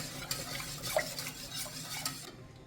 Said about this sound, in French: on mélange bien pour éviter les crumes